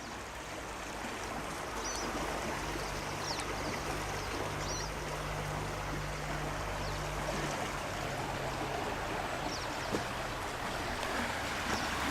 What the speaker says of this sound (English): That water is flowing.